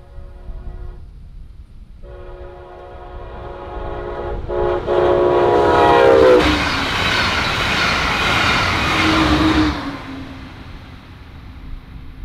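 A Brightline Siemens Charger SCB-40 locomotive hauling a Siemens Venture passenger trainset sounds a long, loud multi-tone horn, then roars past close by with rising rumble and wheel noise before fading.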